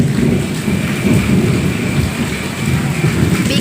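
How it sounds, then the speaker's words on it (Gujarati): Rolling thunder rumbles steadily beneath continuous rain pattering on a surface, loud and close with no pauses, during a storm over farm fields in Gujarat. "વરસાદ એટલો બધો આવતો નહીં, વરસતા નહીં પણ ગરજતા હે"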